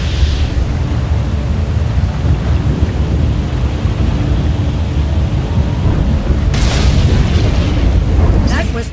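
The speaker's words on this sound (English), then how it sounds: "The lightning strikes can be deadly out here" Heavy rumbling thunder rolls continuously through a stormy SWTOR scene, with sudden crackling lightning strikes near the end, loud and close, while voices speak over the storm.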